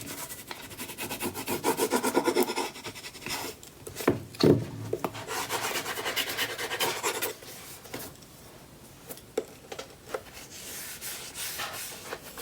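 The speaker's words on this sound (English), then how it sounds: "So I'm going to burnish this in place." Paper is burnished into place on the cover of a mini album with a tool, producing close, dry rubbing and scraping strokes in uneven bursts with occasional light taps, no voices.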